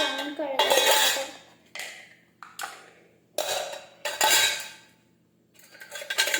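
Glass bottles and metal utensils clatter as they are set down in a kitchen sink for washing, several separate clinking bursts spaced a second or so apart, close and fairly loud with quiet gaps between.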